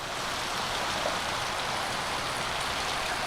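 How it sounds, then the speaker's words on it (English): Steady, dense rush of water sheeting down a garden fountain at Alnwick Garden, a continuous splashing hiss with no pauses, close and fairly loud. "Now see how the water's starting to sheet down the side?"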